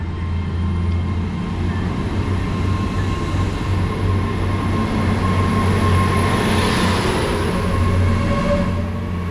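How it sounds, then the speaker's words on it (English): A Class 802 train, the 10:45 Hull to London King's Cross service, pulls out of the station with a steady loud engine drone and rumble, a constant close hum with no talk over it. "departing out now is going to be 802-302. This is the 10:45 Hull train service to London King's Cross."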